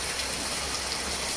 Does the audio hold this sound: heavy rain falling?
yes